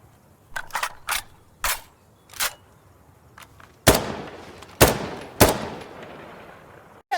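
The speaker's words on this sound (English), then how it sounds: "Cover me! I'm reloading!" Weapon handling and reloading in Insurgency Sandstorm, a string of sharp metallic clicks and clacks spaced irregularly, with several louder snapping impacts later, close and crisp against a quiet background.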